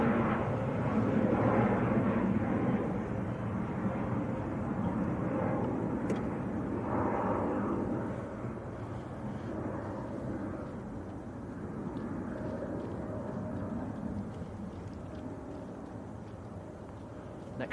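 An EasyJet Airbus A320 at Manchester Airport produces a steady, moderately loud engine rumble and whoosh that slowly fades, with no voices over it.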